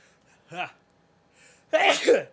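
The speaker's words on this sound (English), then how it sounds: "I had to sneeze." A short vocal sound, a brief pause, then one sharp, close sneeze.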